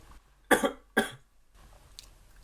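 Two sharp, close coughs from a man with a tickle in his throat come in quick succession, followed by quiet room noise and a faint small sound.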